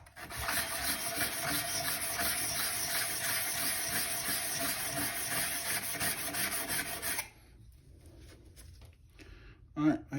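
Steady rasping rub of a Windsor Design No.33 hand plane blade back being flattened on an abrasive, continuous and close for about seven seconds, then stopping into quieter handling noises and a short knock.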